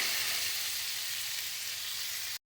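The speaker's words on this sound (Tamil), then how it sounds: "நல்லா அப்பப்போ கொஞ்சம் கொஞ்சமாக திருப்பி விட்டு நல்லா ஃப்ரை பண்ணுங்கள்" Bitter gourd and garlic sizzle steadily in hot oil in a pan, a dense even frying hiss at constant loudness with no voices, cutting off abruptly near the end.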